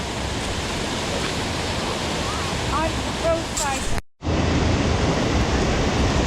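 Steady broadband rush of river water at Clear Creek, flowing continuously and close, with people briefly talking over it and a short dropout near the end before the flow resumes.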